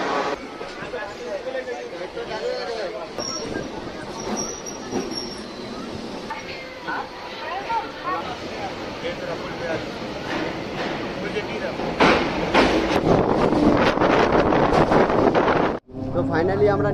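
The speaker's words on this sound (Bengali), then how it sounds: "এই যে পিছনে দেখছো আমাদের ট্রেন বেরিয়ে যাচ্ছে" A train pulls out of Birati station, a steady loud rumble of wheels and carriages close by that swells toward the end before cutting off, with people talking over it.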